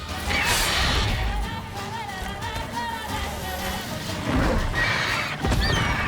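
Roach, a horse in The Witcher 3: Wild Hunt, whinnies loudly and close by in a few rising bursts over thudding movement and crashing noise.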